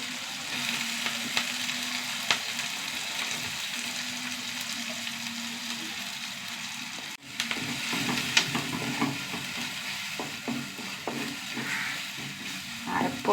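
Ground masala paste fries in a pan with fresh curry leaves and softened tomato, a steady, fairly quiet sizzle with light clicks and scrapes from stirring and a brief louder knock partway through.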